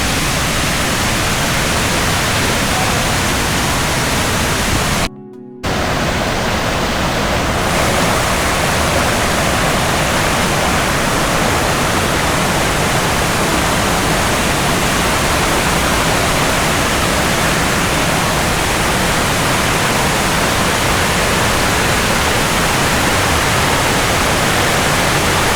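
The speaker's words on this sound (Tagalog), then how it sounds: "may waterfall pala dito sa Thailand, sa may Phuket, Thailand" Kathu Waterfall in Phuket, Thailand roars as a dense, unbroken rush of falling water, loud and close, with one brief dropout a few seconds in.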